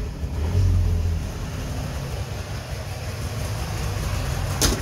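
A two-stroke Subaru 360 engine idles with a steady low rumble, rising briefly as it is revved, close and alone with no talking.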